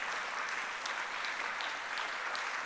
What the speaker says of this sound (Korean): 다 같이 한번 따뜻하게 박수로 환영해 주시기를 바랍니다.